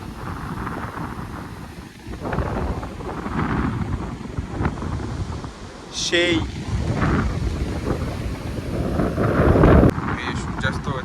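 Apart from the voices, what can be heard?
strong wind on beach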